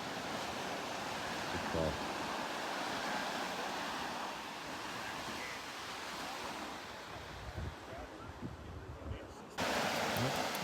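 Ocean groundswell surf breaking on a sunny beach, a steady broad wash of waves with wind noise on the microphone, one surge rising higher near the end, with brief talk.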